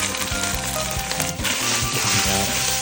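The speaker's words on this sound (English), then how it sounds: "Now add in the minced onions." Minced onions hit a hot pan of sauce for a Thai holy basil pork stir fry, giving a loud, close, continuous sizzle with a few soft knocks, and no talking.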